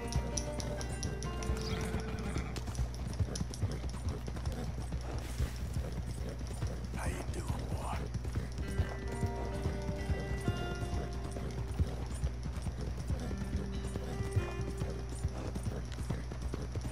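Horse hooves pound in a steady rapid gallop in Red Dead Redemption 2, with a neigh and scattered game effects over a constant low rumble and no talk.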